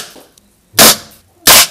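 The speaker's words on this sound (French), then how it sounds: "Alors cette fois-ci, j'ai tiré avec le Walter P88 de mon pote." Two sharp, loud pistol shots from a Walther P88 fired into ballistic gel, each a close, explosive crack with a brief decay, separated by under a second of quiet.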